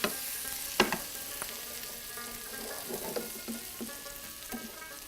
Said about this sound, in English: now he's sauteing the onions And chopped garlic, ginger garlic